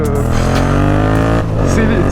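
A Yamaha MT-07 motorcycle riding along, its engine giving a steady, loud, close drone that shifts pitch slightly through the gears, heard alone without talk.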